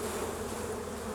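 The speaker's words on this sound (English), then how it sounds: "So shake these bees off." Honey bees shaken off a hive frame during a swarm-prevention inspection hum in a dense, steady, close buzz, with no talk over it.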